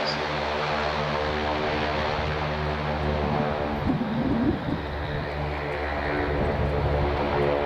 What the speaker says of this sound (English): But the advanced trainer is what we're seeing here on the takeoff roll.